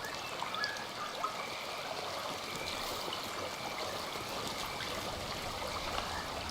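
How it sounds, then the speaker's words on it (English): Steady flowing-water ambience in the video game Soulframe, a continuous even stream-like rush and trickle at moderate level with no pauses. "Right now the game sounds like water"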